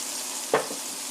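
Food frying in oil in a pan, a steady low sizzle running throughout with one brief louder burst of spatter near the middle, close and fairly quiet.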